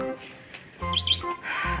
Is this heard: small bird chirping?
yes